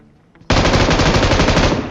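Rapid automatic gunfire in the mobile battle game PUBG Mobile, a loud sustained burst of close shots starting suddenly after a quiet moment and continuing to the end.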